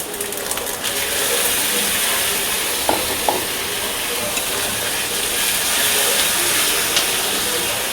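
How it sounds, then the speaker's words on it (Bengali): Tomato puree and spices fry in a pan, making a loud, continuous sizzle with steady hiss throughout and a few faint clicks along the way. "টমেটো পিউরিটা দিয়ে ভাজা ভাজা হয়ে গেছে, মশলাটা কষানো হয়ে গেছে"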